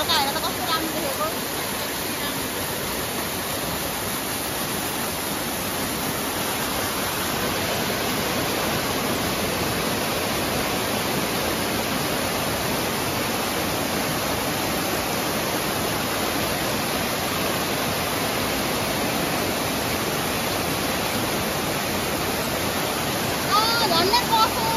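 Water rushes and pours steadily after heavy rain, like a small waterfall or swollen stream, a loud, even, broadband roar that holds unchanged for the whole stretch.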